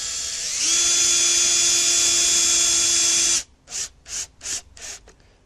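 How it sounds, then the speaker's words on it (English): A cordless screwdriver whines steadily for about three seconds as it drives a screw into a wooden planter, then gives several short pulsing bursts to seat it, close and loud. "I'm going to get my cordless screwdriver"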